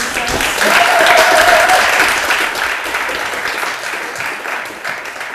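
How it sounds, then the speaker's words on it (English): An audience applauds after a design pitch at a university award session. The sound is a dense, fairly close wash of clapping that swells early and then slowly tapers off, with a little crowd murmur mixed in. "A lot of applause."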